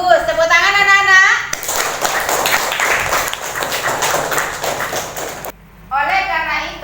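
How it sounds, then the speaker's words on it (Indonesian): Children in a classroom break into a burst of dense, lively applause lasting several seconds, with a voice speaking just before it and an adult speaking again right after. "Tepuk tangan anak-anak."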